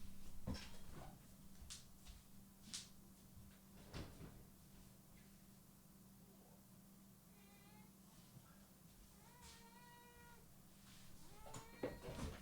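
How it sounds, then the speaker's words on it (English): A house cat meows in a quiet room during a recorded lecture, with several faint, drawn-out cries spread across the stretch over a steady low hum. "My cat is crying."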